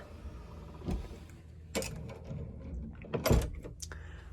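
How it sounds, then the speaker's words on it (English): A hotel room door in an interior-corridor hotel swings shut with a few clunks and a latch click, close and moderately loud, with soft handling noises between. "Let's go ahead and close the door and we'll check out the room."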